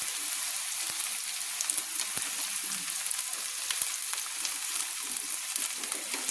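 Chopped beans frying in a pan for vegetable chowmein give off a steady, hissing sizzle close up. The crackle carries on throughout with a few faint clicks.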